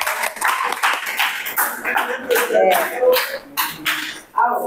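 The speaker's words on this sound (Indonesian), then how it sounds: "Beri tepuk tangan." Classroom applause, uneven bursts of clapping from a small group of students, mixed with overlapping voices and chatter nearby.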